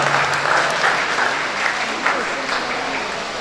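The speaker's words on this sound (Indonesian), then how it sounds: "tepuk tangan dulu kepada Pak Ketua" Audience applause for the chairman at the opening of the Maimbau Show at SMKN 7 Padang, a steady dense patter of many hands clapping with voices mixed in underneath.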